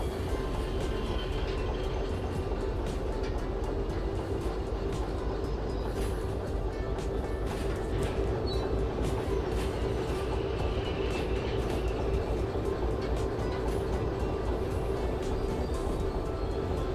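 A train rolling along the rails in the Derail Valley video game, a steady dense rumble with faint rhythmic clatter holding at an even level throughout, with no voices.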